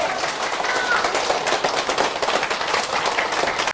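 Dense audience clapping, loud and continuous, with rapid overlapping claps that stop abruptly at the end.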